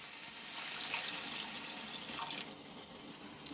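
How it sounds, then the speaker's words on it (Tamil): Water poured into a cooking pot of sautéed vegetables for vegetable kurma, a steady splashing and trickling pour running for a few seconds, fairly close, with no talking. "அப்போ இது வேகிற அளவுக்கு நம்ம தண்ணி சேர்த்துக்கலாம்."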